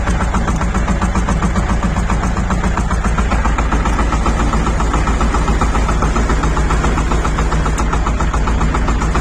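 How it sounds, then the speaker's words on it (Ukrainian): A tractor engine idles loudly and steadily nearby, a constant rhythmic diesel chug with no pauses. "Так, ось 13 хвилин трактор працює."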